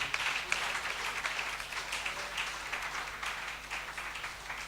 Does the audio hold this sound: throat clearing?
no